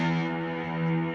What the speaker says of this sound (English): Full distortion,